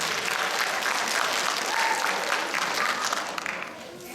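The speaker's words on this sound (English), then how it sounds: "Big round of applause" Audience applause at a cultural event, a dense, even spread of clapping from a crowd that holds steady for about four seconds at a moderate distance.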